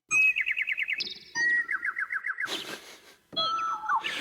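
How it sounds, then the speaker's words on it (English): Bird tweet sound effect from a Donner DEP-20 electric piano, with rapid warbling chirp trills played at several pitches in short bursts, close and clear, separated by noisy gaps. "Bird tweet."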